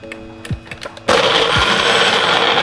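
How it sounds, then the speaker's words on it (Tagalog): A few soft knocks and clinks, then a NutriBullet personal blender kicks on abruptly and roars steadily and loudly to the end. "may NutriBullet na ako. Bumili talaga ako ng blender."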